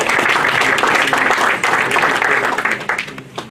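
Audience applause welcoming a speaker at an anniversary celebration held by a humanitarian dialogue foundation, a dense continuous roar of clapping that holds steady for several seconds before thinning out at the end.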